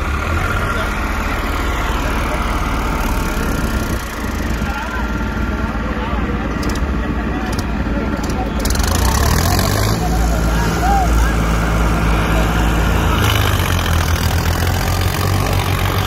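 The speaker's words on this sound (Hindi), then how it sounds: "इसके अंदर किर्लोस्कर का इंजन है और उसके अंदर तो फार्म ट्रैक का खुद का है ही।" Tractor engines idle nearby, one fitted with a Kirloskar engine and the other a Farmtrac with its own engine, chugging steadily and growing louder partway through as voices talk over them.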